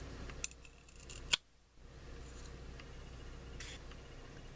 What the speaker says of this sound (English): I'm going to go in with my miter shears and trim that off